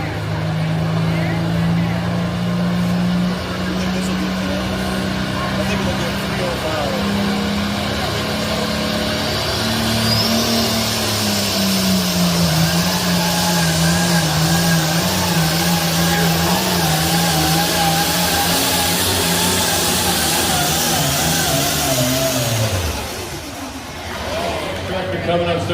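Pulling tractor at a Lincoln, Nebraska tractor pull on the Hard Luck track, its engine droning loud and steady as the RPMs climb, then dropping off sharply near the end, with an announcer talking over it.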